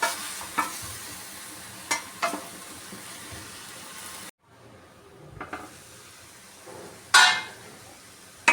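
Ridge gourd with turmeric cooking in a pan, a utensil scraping and clinking as it is stirred over a soft sizzle, broken by a short silent gap and a brighter clatter near the end.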